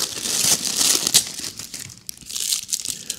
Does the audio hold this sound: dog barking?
no